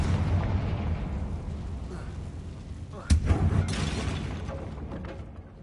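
A Confringo spell blast from Hogwarts Legacy, one sharp explosive burst partway through, layered over steady loud game ambience and a rumbling low bed.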